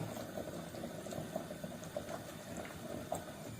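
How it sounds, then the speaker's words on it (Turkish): Potatoes boiling in a pot, heard as a steady, close bubbling and rolling simmer that continues throughout with small bursts, with no talking. "Patatesim haşlanmaya devam ediyor."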